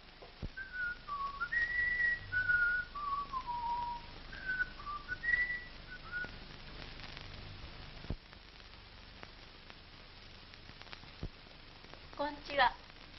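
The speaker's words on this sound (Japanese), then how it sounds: "じゃあ口笛吹けば出ていくよ。" A person whistles a wandering, lilting melody at moderate volume, then falls silent with faint background noise and a brief squeak near the end.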